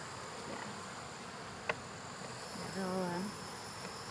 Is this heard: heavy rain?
no